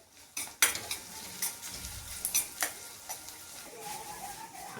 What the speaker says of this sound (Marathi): मस्त असं भाजून घ्यायचं कांदा.